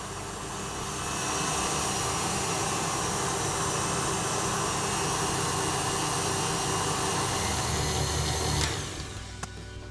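An electric mixer whips egg whites and sugar into a firm meringue for a lemon tart, a steady loud motor whine that runs unbroken for several seconds before switching off near the end.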